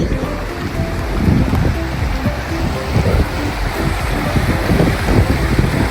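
Mission Creek rushes over a trail water crossing on the Pacific Crest Trail, a loud, continuous broadband churn of flowing water close by with no speech.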